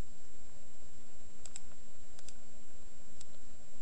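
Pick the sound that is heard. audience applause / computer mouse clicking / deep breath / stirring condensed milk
computer mouse clicking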